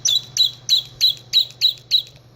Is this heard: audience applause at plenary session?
no